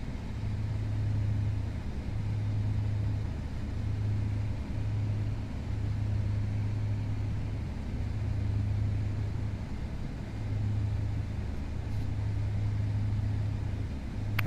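Twin-engine propeller drone of a Piper Seneca V in the FSX flight simulator, a steady low hum with a pulsing throb, continuous and even throughout, with no talking.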